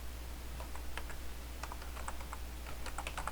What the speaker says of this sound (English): I type in administrator